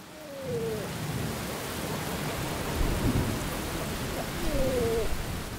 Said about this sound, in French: Il faut savoir endurer une bonne averse